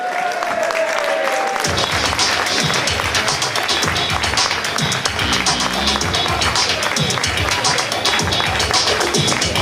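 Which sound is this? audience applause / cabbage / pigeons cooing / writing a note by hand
audience applause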